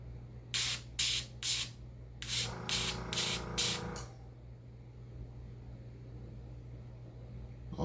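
A Gundam Marker airbrush sprays paint onto Gunpla plastic pieces in short, sharp hissing bursts, three quick puffs then a longer run of five, close up over a low hum, fading to quiet.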